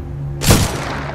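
A sniper rifle fires once in the shooter game Titanfall 2, a single loud, sharp report with a booming tail that fades over about a second.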